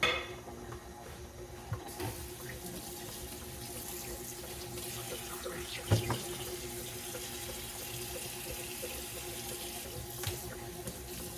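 Running tap water pours steadily into a kitchen sink while dishes are washed up after baking oatmeal cookies, with a continuous close splash and occasional faint clinks of pots or utensils.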